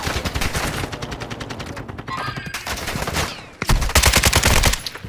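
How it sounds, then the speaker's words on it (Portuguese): Rapid bursts of automatic gunfire from a bot in a shooter video game, dense rattling volleys with a brief lull before a louder, closer stretch of shots near the end. "tô tomando tiro do bot"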